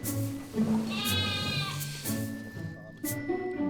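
A sheep (ewe) bleats during hoof trimming, several close, wavering bleats over farmyard bustle and handling noise, with brief talk in the background.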